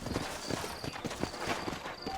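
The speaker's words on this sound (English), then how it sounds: "You ain't gonna find sturdier horses than these in all of New Ulster." Horse hooves clip-clop at a steady walking rhythm in the Western video game Red Dead Redemption, moderately close with a faint ambient bed and no talk.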